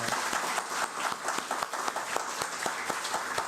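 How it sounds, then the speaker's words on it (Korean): Church congregation clapping during a Korean Thanksgiving Sunday service, a dense, even round of applause from many hands that holds steady throughout. "오늘 이렇게 귀한 날 주신 하나님께 우리 영광의 박수 한번 올려드렸으면 좋겠습니다."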